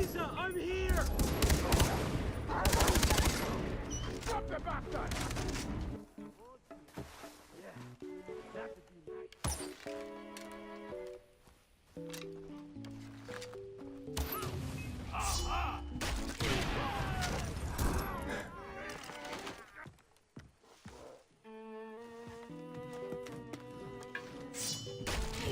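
Gunfire from the Far Cry 3 first-person shooter, with dense bursts of shots, thuds and impacts mixed with game music and effects, loud and continuous with brief lulls, under occasional voice.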